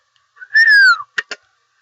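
A cartoon fox's trademark whistle: a single loud falling whistle glides downward, followed by two sharp clicks in quick succession, close up with no voices.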